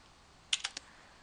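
Three quick keystrokes tapped on a computer keyboard, close and fairly soft, in a short burst against a quiet background.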